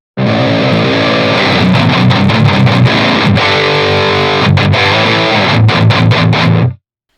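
Heavily distorted metal electric guitar played through Audio Assault The Crown amp simulator, loud dense palm-muted riffing with rhythmic chugs and brief stops, alone with no voice, ending abruptly.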